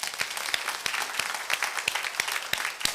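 Congregation in a church worship service claps together, a dense, steady wash of applause with sharp individual claps standing out, sustained throughout without voices.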